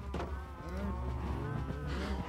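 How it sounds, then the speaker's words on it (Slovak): A cow in the game Minecraft 1.18 gives a drawn-out, droning moo with a steady pitch. It is loud and close, with faint game sounds beneath it. "To musíme zabiť malú kravičku."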